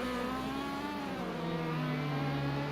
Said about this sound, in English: just let me know if you guys are satisfied with the sound of the cars over my commentary